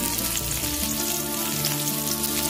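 Spices hit hot oil for a chilli chicken gravy, giving a loud, steady sizzle that stays dense and unbroken from start to finish with no talking.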